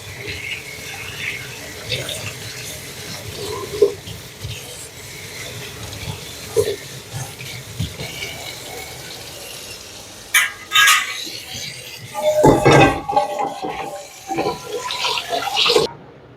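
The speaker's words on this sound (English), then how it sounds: "we're washing the sealing ring frame, vent filter, cooking rack, and removable pot in warm, soapy water" Water splashes and sloshes in a sink as an electric pressure canner's sealing ring frame, vent filter, cooking rack and removable pot are scrubbed and rinsed in warm soapy water, with clatters and bursts of running water.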